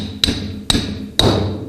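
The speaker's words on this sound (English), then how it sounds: "And I can go take a hammer, Scott Pavlonis' favorite tool, and pound on" Three sharp metallic hammer strikes pound on a manual transmission hub, evenly spaced about half a second apart, each ringing briefly before fading, close and loud with no talking.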